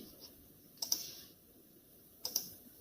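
A few faint, isolated clicks come from keys on a computer keyboard: two small clusters of taps in a quiet room.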